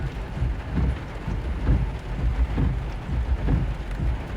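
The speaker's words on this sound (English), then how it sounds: "It's raining right now in this area." Heavy rain during a supercell storm chase near the Nebraska–Kansas border, a dense, loud roar with repeated low rumbling pulses like thunder or wind buffeting, steady throughout with no talk.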